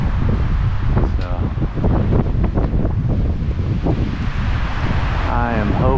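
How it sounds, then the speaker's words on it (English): Strong gusting wind, around 50 mph, roars steadily through a backyard with broadband rushing and buffeting on the microphone, and faint bird chirps in the background. "we do have some freaky windstorms. It's what we're getting right now"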